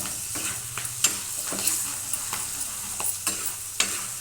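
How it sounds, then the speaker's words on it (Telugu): Sliced green chilies and dried red chilies fry in hot oil for a Rayalaseema karam borugulu snack, with steady crackling sizzle and repeated sharp scrapes of a spoon stirring through the pan, close and clear, no voices. "పచ్చిమిరపకాయలు కట్ చేసుకుని, ఎండుమిరపకాయలు, కూడా ఫ్రై కానియాలండి ఆయిల్లో బాగా"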